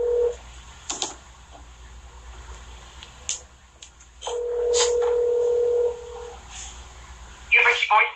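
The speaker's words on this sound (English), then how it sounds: "calling an unlisted number for Republican Peter Roskam, Republican of Illinois." A telephone dials an unlisted number with touch-tone beeps, then a steady ringback tone sounds on the line, followed by a brief burst of higher tones near the end; no one speaks.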